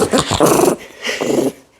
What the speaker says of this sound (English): she's going to growl right into the mic because she hates being lifted up and moved